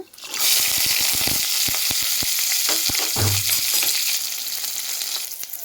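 Loud, sudden burst of oil frying as shallots, curry leaves, garlic, and dried and green chillies hit the pan after mustard seeds pop, then a continuous crackling sizzle with occasional stirring clicks and scrapes.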